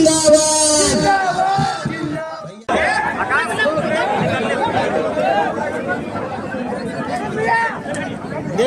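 A large election rally crowd chattering loudly, a dense continuous babble of many voices with a raised voice standing out near the start.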